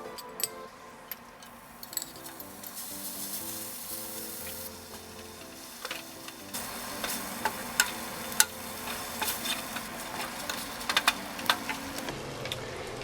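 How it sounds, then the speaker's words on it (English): Ground pork fries in a pan, giving a steady, close sizzle with scattered sharp crackles and utensil taps that grow busier over about thirteen seconds, with faint tonal music underneath. "next I'm going to fry up the ground"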